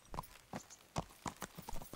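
Horse hooves clip-clop in the Kingdom Come: Deliverance video game, a handful of distinct, fairly close hoofbeats in an uneven walking rhythm, heard alone without talk.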